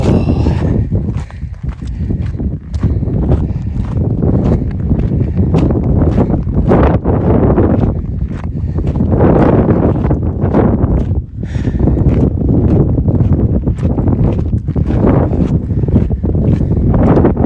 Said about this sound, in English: I think it just has little spurts of gusts every now and then.